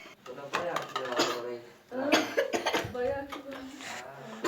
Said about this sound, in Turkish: galiba bu öksürüyor böyle